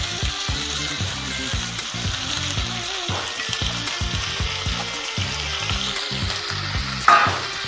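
Drained spinach hisses and sizzles in hot oil while being stirred, with steady broadband frying and rhythmic scraping strokes, a sharp clink near the end; close and fairly loud, no talk.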